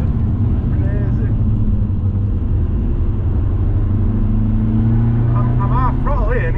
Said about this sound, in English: I'm half throttle here and it's sliding.